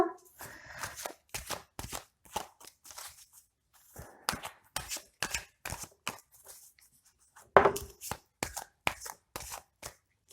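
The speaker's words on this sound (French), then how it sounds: "on va tirer plusieurs cartes" Oracle cards being shuffled and drawn by hand. Quick, dense runs of papery riffles and flicks come in bursts, with brief pauses and a sharper slap near the end, close and fairly quiet.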